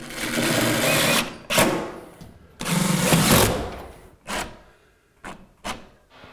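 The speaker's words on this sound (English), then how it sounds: "We'll just throw a screw in every stud all the way around." A power drill drives screws into wall studs while a drop ceiling is installed, giving several bursts of whirring, some longer and some brief, with short quiet gaps between them and no talk.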